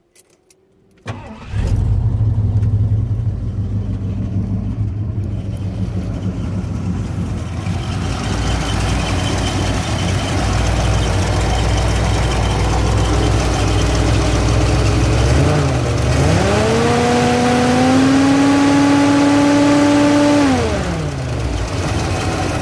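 A truck's 351W V8 cranks and catches, then settles into a loud, steady close-up idle before revving up for several seconds and dropping back to idle.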